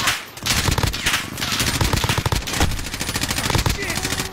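Dense, rapid automatic gunfire from the Call of Duty video game rattles almost without pause, loud bursts overlapping with some talk mixed in.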